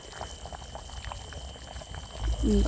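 Goat leg curry boiling in a pot, a close bubbling and burbling simmer with soft liquid pops, swelling louder near the end.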